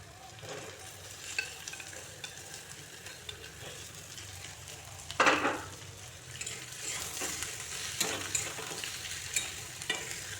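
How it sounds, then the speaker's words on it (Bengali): Potatoes sautéed and stirred in a pan while cooking a duck egg curry, with a steady frying sizzle and repeated scraping stir strokes, one louder clatter midway, no talking. "আলুগুলোকে একটু কষিয়ে তারপর আমি ঝোলটা দেব।"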